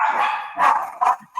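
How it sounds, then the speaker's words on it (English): Several loud, close barks from a dog come in quick succession, each short and sharp, with a brief yip at the end and no talking over them. "here are the dogs."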